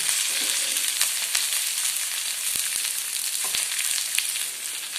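Orange peel and ginger fry in a hot pan with a steady, loud, close sizzle that runs throughout, dotted with a few light stirring clicks and no voices.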